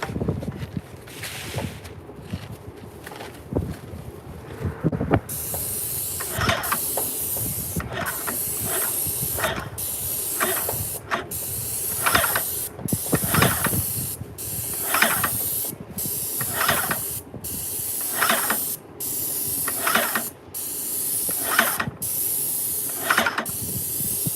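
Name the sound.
paint sprayer spraying desk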